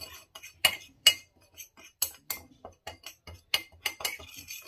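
Metal utensils clink and scrape against a bowl while pork seasoning with salt, pepper and coloring powder is mixed for lechon pig head, a quick irregular run of close, bright taps and knocks.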